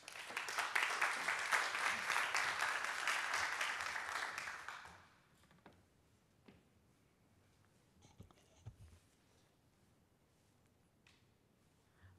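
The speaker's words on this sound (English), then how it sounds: "a warm round of applause for Mina." A seminar audience claps in a dense burst of applause for about five seconds, then fades to a quiet room with a few faint knocks.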